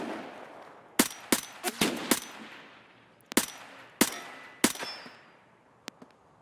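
Gunfire in the video game Escape from Tarkov: a burst of several sharp, loud shots around the one-second mark, then scattered single shots with echoing tails and pauses in between.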